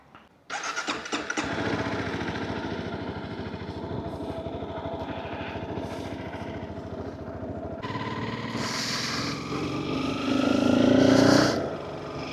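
A motorcycle running low on petrol starts up close by and idles with a steady, buzzing rumble. It is revved louder twice before easing back, with no talk over it.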